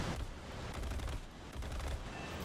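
Browning machine guns on an F-80C-10 jet in the War Thunder combat game rattle out in a dense, continuous burst of rapid gunfire that stays loud and close for the whole stretch, with only brief dips in intensity.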